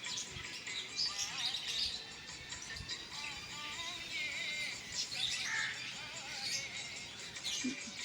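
Birds chirp and tweet faintly in short scattered calls on a breezy monsoon morning of light drizzle, over a soft outdoor background hiss.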